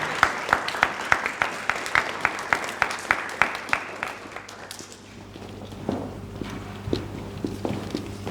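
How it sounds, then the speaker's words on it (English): Applause for award winners at a school awards ceremony, a steady rhythm of fairly close hand claps that fades out halfway through, leaving a quiet room with a few small knocks and shuffles. "You can have a nice round of applause for all of our winners"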